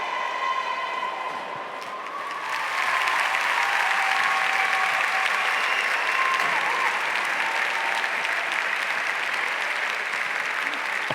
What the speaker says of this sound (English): Applause for each of the medalists.